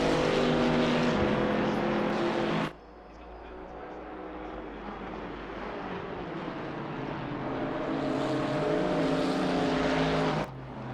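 Race car engines of a BMW and a Camaro roaring steadily in a racing video game at the Red Bull Ring, sustained loud engine drone with pitch shifting through corners, abrupt cuts at either end.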